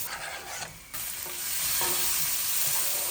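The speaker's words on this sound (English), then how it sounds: "Now the ginger garlic goes in, and I'm just going to give it 1 minute." Ginger and garlic hit hot oil in a pot for khichdi, a bright sizzle swelling into a steady, close frying hiss with light stirring, no voices.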